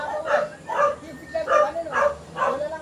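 Several dogs bark in a steady series of yapping bursts, about five evenly spaced barks in a few seconds, fairly close in an outdoor neighborhood setting.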